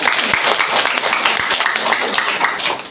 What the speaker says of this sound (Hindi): ताली बजाओ थोड़ा, वो मन से सुनो।